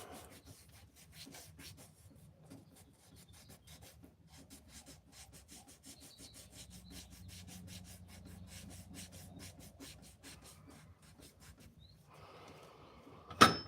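A wooden pen on a lathe is sanded with 340 grit paper, giving a steady rhythmic rubbing and rasping that continues throughout, ending in a sudden brief thump.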